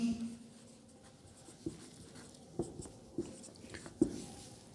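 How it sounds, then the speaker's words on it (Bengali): A pen or chalk scratches on a board in short, faint strokes, with several soft taps as the tool meets the surface, in a quiet room. "হ্যাঁ লিখছি এখানে"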